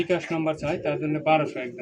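Fancy pigeons offered as a pair at a Bangladeshi pigeon market, Rajgolla, Giribaz, Lahori and Bombay breeds among them, coo in soft repeated throaty calls, close by, with someone talking over them throughout.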